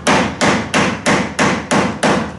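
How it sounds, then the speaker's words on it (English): Seven sharp, evenly spaced hammer strikes drive T-nuts into the back side of a wooden table saw extension piece, each a loud, close knock that decays quickly, struck at a steady moderate pace. "I hammer the Tnuts in from the back side."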